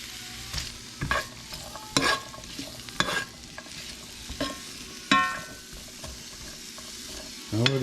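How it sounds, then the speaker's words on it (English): Chopped onion and celery cook in a pot for red beans and rice, a constant frying sizzle broken by repeated loud clanks and scrapes of stirring at irregular intervals, close and without talk. "I'm gonna go ahead and throw this onion in with the celery."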